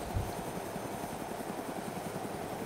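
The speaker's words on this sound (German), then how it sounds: "ja, das ist ein Heli, du." Video-game helicopter in DayZ Epoch, a faint, steady rotor chop with a low droning engine hum, heard at a distance and continuing evenly without talk.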